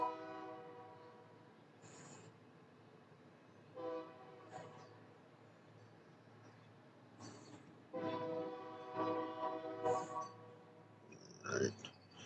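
A train horn sound effect plays during a workout stream, with several long, sustained blasts that swell and fade. A faint background hum runs beneath the horn, and no speech is heard.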